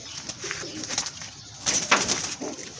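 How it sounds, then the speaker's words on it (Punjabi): A racing pigeon coos softly after landing during a one-day pigeon race. The low, gentle coos come in short repeated phrases against quiet outdoor background noise. "ਸੱਤਵਾਂ ਕਬੂਤਰ ਬੈਠੇ"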